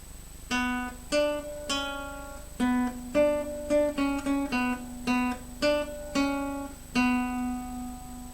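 Guitar theme played on the second string: a string of about sixteen plucked notes in a moderate, uneven rhythm, clear, close and alone, each ringing briefly before the next.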